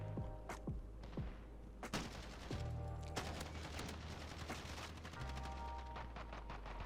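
Rapid bursts of gunfire from a Modern Warfare match, sharp shots cracking in quick clusters with a steady low engine-like hum underneath and a few heavier thuds.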